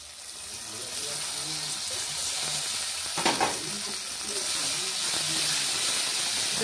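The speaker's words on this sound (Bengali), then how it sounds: "এবার দিয়ে দেবো আদা রসুন বাটাটা দিয়ে দেবো" Ginger-garlic paste hits hot oil with already-fried onions in a pan for a leftover fish curry, producing a loud, continuous steamy hiss and sizzle with a brief stirring burst midway, while a voice talks underneath.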